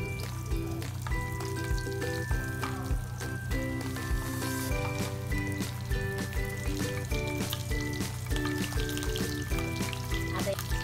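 Stuffed green chillies being laid one by one into oil on a tawa for a village-style thali, a soft continuous sizzle with small pops under a layer of sustained musical tones.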